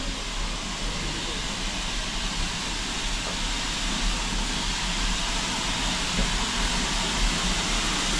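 A steam train on the Keighley and Worth Valley line near Haworth, Yorkshire, passes close by with many carriages, a continuous loud rumble and hiss of rolling stock that holds steady throughout.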